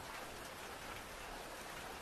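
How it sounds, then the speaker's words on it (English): Steady rain falling outside on a stormy night, a dense, even hiss that stays constant and fairly close throughout with no distinct thunderclap or voices. "the cold, rainy world outside"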